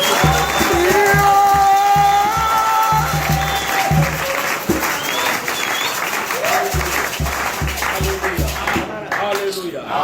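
A prison congregation claps and cheers in praise of God, bursts of rhythmic applause mixed with shouting voices and crowd noise, loud and close, fading into scattered claps.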